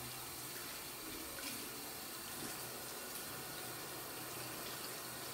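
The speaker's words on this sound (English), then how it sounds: "Leave the water running" A sink tap runs steadily with a constant rushing hiss of water, close by, unbroken for the whole stretch.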